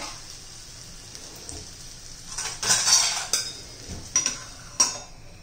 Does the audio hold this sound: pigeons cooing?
no